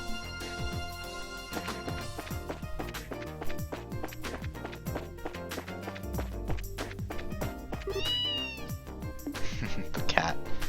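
Antoine the cat meows in the video game Trails in the Sky, with short meows rising over busy game music and sound effects.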